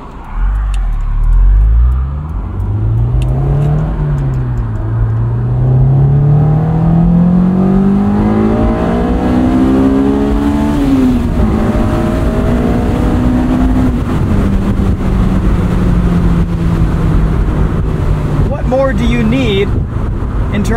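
A 2003 Honda S2000 with 19k miles is driven hard, its engine loud and close as revs climb and drop repeatedly through the gears, while someone talks over it at times.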